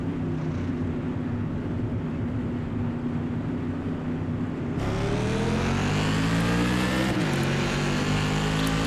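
Whelen Tour modified race cars at Martinsville Speedway in iRacing hold a steady engine drone on the pace lap, then surge together into a loud, rising roar of acceleration at the green flag partway through.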